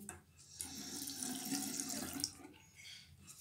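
Water runs steadily from a bathroom tap in an Italian home, a close, continuous splashing hiss that swells slightly in the middle and keeps going for the full few seconds with no talking.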